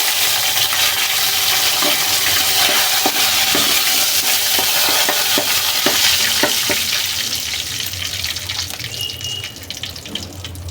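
A sprig of curry leaves drops into hot oil and erupts in a loud, dense crackling sizzle with rapid spits and pops, close by, gradually settling into a softer steady frying hiss.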